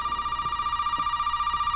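A telephone rings steadily in the main hall of a Resident Evil 7 game scene, a sustained electronic tone over a quiet background with faint soft thuds.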